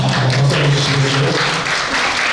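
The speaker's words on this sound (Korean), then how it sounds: "박수 한번 주시겠어요?" An audience at a parents' school session in Korea claps, a loud, dense burst of applause that fills the room.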